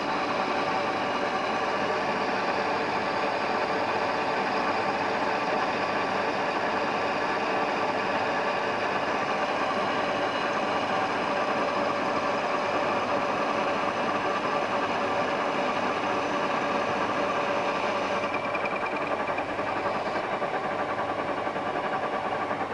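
A 1B61 lathe, running on single-phase power, takes a 2 mm cut per pass at 710 rpm, giving a steady, even mechanical drone with a constant whine that holds unchanged throughout.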